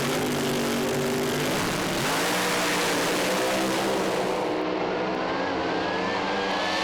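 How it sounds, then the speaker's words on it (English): Pro Slammer drag racing cars rev their engines at the start line at Willowbank Raceway's New Year Thunder, a loud, sustained roar with the pitch climbing as the revs build. "You hear the revs building up on these cars as they bring them edging forward."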